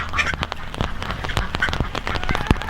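Ducks quack repeatedly in short, overlapping calls close by in a duck pen, over a steady wet splashing patter of heavy rain on water.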